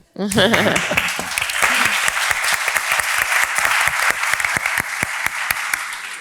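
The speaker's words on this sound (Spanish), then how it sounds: "te tengo que aplaudir" Dense, steady applause from an audience at a medical conference talk on atherosclerotic cardiovascular disease, loud and sustained for several seconds after a brief voice at the start.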